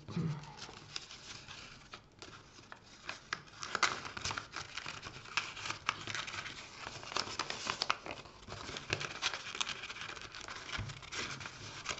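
A paper tab slides into a paper pocket on a junk journal page, giving rustling, crinkling and tapping handling noises throughout, faint and close.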